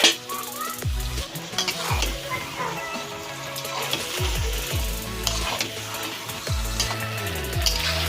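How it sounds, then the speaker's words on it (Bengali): Meat tossed with spice paste in a hot pan for kasha, a steady sizzle under repeated scraping and clattering stirs, with the utensil knocking the pan every second or so, close and fairly loud. "মশলাটি ভালো করে কষিয়ে নেওয়ার পর মাংসটা দিয়ে ভালো করে নাড়াচাড়া করছে"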